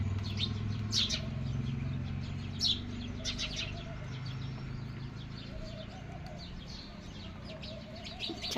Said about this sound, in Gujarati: ચકલા બાજી રહ્યા જો બાઈ જાય,